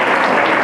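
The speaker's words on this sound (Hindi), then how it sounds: "अब्बू का एहसान, तालियां बजाएंगे इनके लिए" A brief, dense burst of audience applause from a crowd of many hands clapping together, loud and close.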